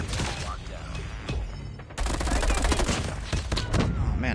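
Rapid automatic fire from the CX9 submachine gun in the mobile shooter COD Mobile, dense crackling bursts that swell louder halfway through and keep going in sustained sprays.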